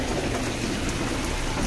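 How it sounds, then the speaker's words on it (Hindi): Heavy rain pours down in a dense, steady hiss of countless drops striking surfaces close by, continuous and loud throughout with no talking. "ये देखो बहुत तेज़ बारिश आ रही है।"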